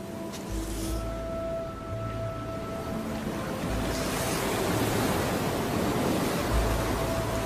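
Ocean surf on a Sri Lankan beach, a steady broad wash of breaking waves that swells louder in the second half, with a low hum underneath and no talking.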